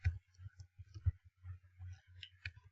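A computer mouse clicks on a Google Slides text box, making a series of light, close clicks and taps spaced irregularly against a quiet background.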